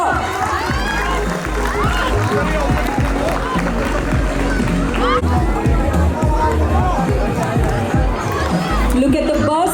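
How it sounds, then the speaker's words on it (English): A school sports day crowd roars during a race, a loud continuous swell of cheering, shouting and chatter from many people, with voices rising and overlapping throughout. "Let's hear a big cheer."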